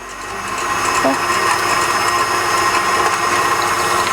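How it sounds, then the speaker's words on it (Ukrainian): Electric mixer whisking an egg into Belgian waffle batter, a loud continuous motor whir with a faint brief clink, running steadily throughout. "продовжуючи збивати, збиваємо одне яйце"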